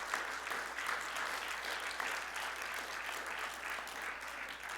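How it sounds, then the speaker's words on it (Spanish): A church congregation claps in praise, a steady, fairly distant wash of many hands applauding together, with faint voices mixed in. "Dale el aplauso de alabanza a Él."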